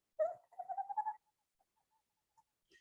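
A person whistles a soft imitation of a Western screech owl call, a short gentle run of quick rising hoots lasting about a second, then near silence with faint traces.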